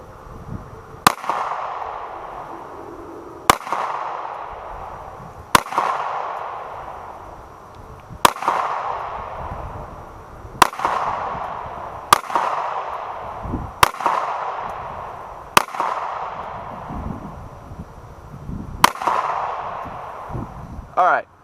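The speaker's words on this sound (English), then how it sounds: "We just put 8 or 9 more rounds, I think 9 more rounds from the Bersa" Nine Bersa pistol shots ring out on an outdoor shooting range at a target about 20 feet away, sharp loud cracks spaced a few seconds apart, each trailing off in a short echo.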